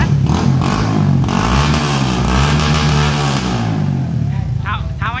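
Yamaha FZS V4 motorcycle fitted with an Acrophovic aftermarket exhaust, engine running close by with a steady throbbing note throughout, voices faintly audible alongside.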